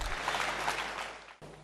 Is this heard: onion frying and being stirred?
no